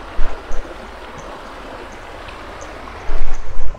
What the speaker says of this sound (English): then it comes down to this stretch of river here